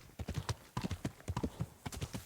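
Horse hooves clip-clopping in the medieval video game Kingdom Come: Deliverance, a brisk, rhythmic run of close, fairly loud hoofbeats with no talking over them.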